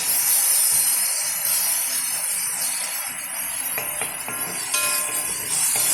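Curry leaves sizzle in a hot pan during cooking of cashew chicken: a bright, steady frying hiss with occasional faint crackles and light clinks from stirring.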